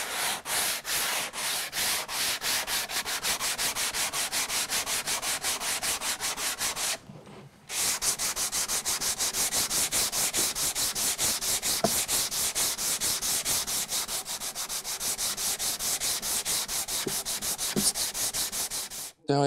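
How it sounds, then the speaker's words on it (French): Hand sanding dried homemade wood filler on wood, a close, rhythmic scratching rasp of quick back-and-forth strokes, with a short pause near the middle before it resumes steadily, no talking. "Je vais passer volontairement au ponçage à la main, parce que j'ai envie de vous montrer que ça se ponce facilement."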